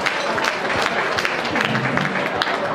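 Sustained applause from a crowd at a wine tasting event, steady dense clapping throughout with a faint murmur of voices beneath.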